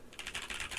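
Quick, soft clacking of keystrokes on a NuPhy Air75 v2 low-profile mechanical keyboard, a short close-up burst of steady typing with no voices.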